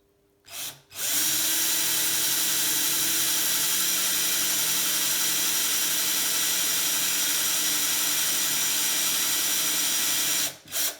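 A power drill runs steadily and loudly for about ten seconds, a continuous whirring grind with short bursts at the start and end, drilling a gravel touring bike part and producing many shavings.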